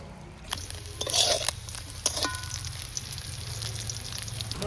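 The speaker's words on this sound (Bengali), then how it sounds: "বন্ধুরা আমার মাছ ভাজা হয়ে গেছে" Small fish fry in mustard oil in a pan with a steady, soft sizzle. A few sharp spatters and a clink of a utensil are heard, and nobody speaks.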